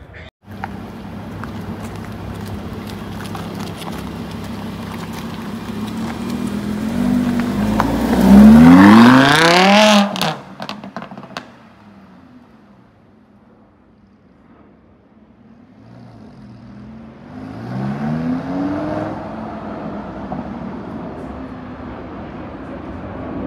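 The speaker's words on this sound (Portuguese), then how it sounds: "ouvir o ronco desse carro, ouvir andando, simplesmente é uma coisa única" A Ferrari Purosangue at its Brazilian launch event roars past while accelerating, its engine rising to a loud, close peak before dropping away. A second, fainter engine surge follows as the car drives off, under a steady background rumble.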